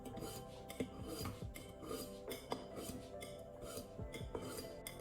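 Scissors blade drawn repeatedly across a small metal safety pin in gentle, even strokes, giving a close, steady metallic rasping and scraping with occasional light clinks, no talking.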